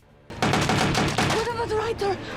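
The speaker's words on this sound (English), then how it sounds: "What the fuck are these gun sounds? That literally sounds like a fake gun" Bursts of rapid gunfire from an Arrow TV episode, a dense run of loud shots fired in quick succession, with a voice speaking over the latter part.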